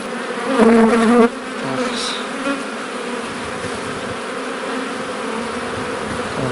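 Dense, steady buzzing of many Buckfast honey bees at the hive fills the air, close and continuous, with one louder bee droning past near the start.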